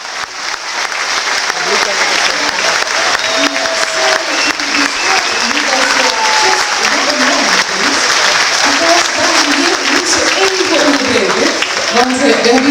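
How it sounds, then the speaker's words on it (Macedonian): Large, warm audience applause after a Macedonian folk dance ensemble's stage performance at a festival in the Netherlands, loud and continuous throughout, with voices talking and calling faintly beneath it. "Овој пат аплаузот на публиката навистина беше голем и срдечен."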